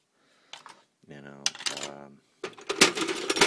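Hex keys clink and rattle against metal inside a Harbor Freight tool box kept in a Caravan, a few bright jangling bursts separated by short pauses, close and fairly loud.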